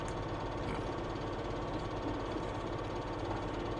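Steady, quiet tractor engine hum in Farming Simulator 17, a low rhythmic idling throb with faint knocking, continuous and even throughout with no talk.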